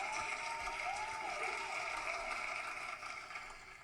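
An applause sound effect played during a podcast, a steady crowd-style wash of clapping with faint cheering, fairly quiet and tapering off slightly near the end.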